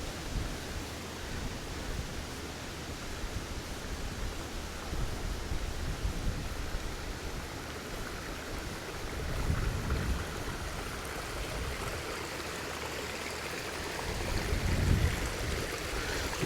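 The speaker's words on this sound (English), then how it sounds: "So there's a lot of water pouring down from the hillsides here." Storm runoff pours down hillsides onto a hiking trail that has turned into a creek the day after Storm Amy, a steady, soft rushing wash of water heard alone at moderate distance.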